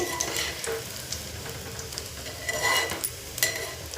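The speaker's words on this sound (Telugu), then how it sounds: "ఇందులో మనం చేసుకొని పెట్టుకున్న గులాబ్ జాములను వేసి వేయించుకుందామండి గోల్డ్ కలర్ రంగు వచ్చే వరకు వేయించుకోవాలండి" Gulab jamun balls fry in hot oil until golden, a dense, even sizzle and crackle filling the whole stretch with a few faint clinks of a utensil.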